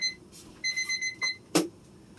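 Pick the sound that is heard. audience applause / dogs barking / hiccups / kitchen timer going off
kitchen timer going off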